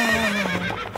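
A horse whinnies loudly and close, a long wavering neigh filling the moment, alone without talk.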